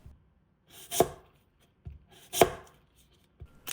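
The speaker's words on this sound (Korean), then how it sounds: "채칼이나 칼을 사용해서 최대한 얇게 썰어줍니다." A knife slices an apple thinly on a cutting board, giving two crisp, distinct cuts about a second and a half apart with fainter taps between, close and quiet with no talking.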